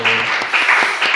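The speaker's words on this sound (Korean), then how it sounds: "우리 한번 박수 한번 쳐주도록 하겠습니다" Congregation applauding during a church worship service, a short burst of clapping filling the room with a steady, dense patter and a faint tonal hum underneath.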